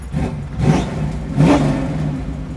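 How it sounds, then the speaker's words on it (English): A carbureted 1973 Ford Bronco engine cranks and catches, then revs twice in loud surges before settling into a rough, steady idle. "Gotta love that carbureted motor."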